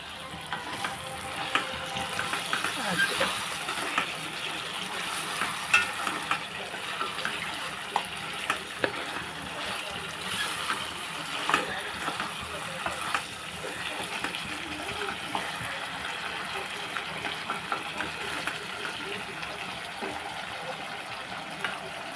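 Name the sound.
crab curry frying and sizzling in pan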